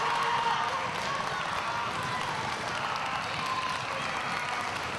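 A wrestling crowd roars and claps continuously in a large arena, a steady wash of cheering and applause with no clear individual voices rising above it.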